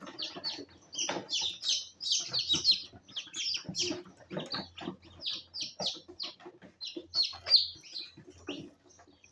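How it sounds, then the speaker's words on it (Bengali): French breed chickens clucking and calling in repeated short bursts, several birds close by and fairly loud, with no voices over them. "এগুলো হচ্ছে ফ্রান্সি জাতের মুরগি"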